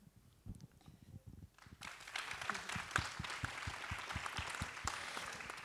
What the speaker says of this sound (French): Ça fait du bruit, 3500 personnes qui applaudissent en même temps.